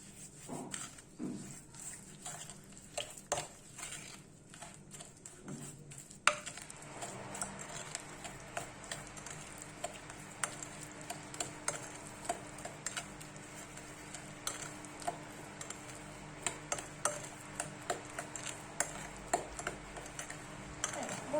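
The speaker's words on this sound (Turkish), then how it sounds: "Yine yumurtayı da yedirene kadar karıştırıyorum." Wooden spoon steadily stirring an egg into chocolate chip cookie dough in a bowl, a continuous soft scraping and patter with faint ticking knocks, close and moderately quiet throughout.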